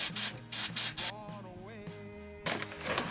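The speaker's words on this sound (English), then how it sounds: "Finally, tighten the fill plug and clean everything with some brake cleaner" Brake cleaner sprayed from an aerosol can to clean a Dacia Duster transmission and transfer case: five short bursts in quick rhythm, a pause, then a longer spray, loud and close.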